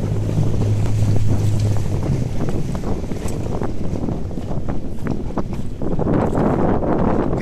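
Sailboat tacking in light to medium wind, with strong wind buffeting the microphone, water sloshing against the hull and sail fabric flapping as the boat comes about.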